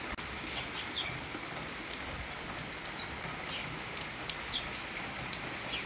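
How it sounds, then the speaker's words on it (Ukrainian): Steady rain patters on surfaces at a farm during the grain harvest, with scattered drips and faint bird calls in the background. "Дощик розходиться"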